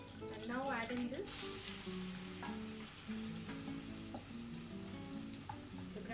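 A gram flour mixture fries in about two tablespoons of hot oil with asafoetida in a pan, giving a steady sizzle with occasional stirring scrapes, while a voice talks over it early on.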